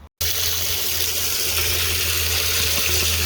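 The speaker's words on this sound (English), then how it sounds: "the city water filling up the barrel so the pump gets primed" City water rushes steadily from a tap into a barrel to prime a greywater system's pump, a loud continuous splashing flow that starts abruptly and runs alone.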